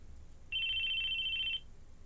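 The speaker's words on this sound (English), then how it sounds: "Our conversation was cut off by the sudden sound of a phone." A phone rings once in the Chaos;Child visual novel, a steady electronic tone lasting about a second over a faint low background hum.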